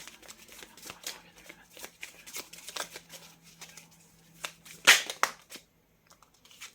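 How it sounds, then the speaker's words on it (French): Tarot cards riffled and laid out one by one in a string of soft, papery flicks and slaps, with one sharper snap near the end, close and fairly quiet. "je vais sortir toutes les cartes"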